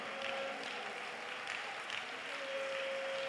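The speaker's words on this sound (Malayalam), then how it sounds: "കൈയടിച്ച് ഉറക്കെ സ്തോത്രം പറ." A crowd claps steadily throughout at a prayer meeting, a dense, even wash of hand clapping heard from a distance with no break.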